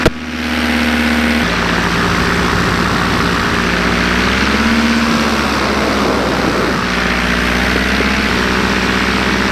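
A Polini Thor 303 paramotor engine roars at full power during a climb, a loud, sustained droning buzz with slight shifts in pitch and no voices.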